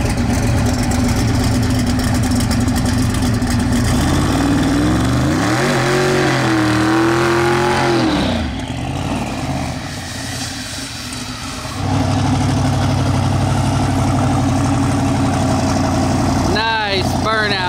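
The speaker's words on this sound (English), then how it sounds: "Nice burnout by Mullet" A drag car with a 9.3-litre SMX big-block engine does a burnout. A loud, continuous engine roar revs up and down in sweeping pitch, dips briefly, then comes back strong, with a final sharp rev at the end.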